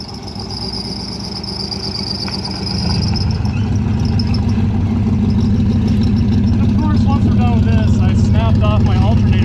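Ford 351 Windsor V8 running in a Foxbody, a loud steady idle rumble that swells after a few seconds, with a thin high squeal from the alternator over it and occasional chirps.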